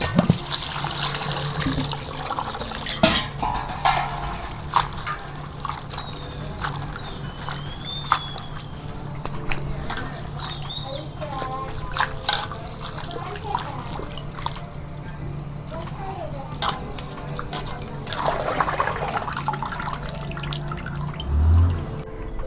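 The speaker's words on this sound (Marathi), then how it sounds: "आता मस्त एक दोन पाण्यानं धुवून घेते" Leafy greens are washed in water in a basin, with splashing, dripping, irregular sloshing and trickling, fairly quiet and close, louder near the end.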